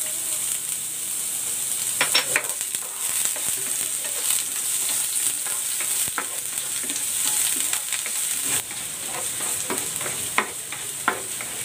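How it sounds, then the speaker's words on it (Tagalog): Ginger sautéing in hot cooking oil for a chicken dish gives a steady close sizzle, broken by clattering stirring strokes and spatula scrapes at irregular intervals. "Maglalagay ako ng cooking oil. Igigisa ko na tong luya."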